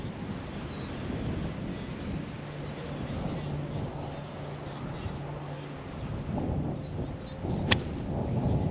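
Strong wind gusts buffet the microphone on an open golf course, a continuous loud low roar that swells toward the end with a brief sharp burst near the close.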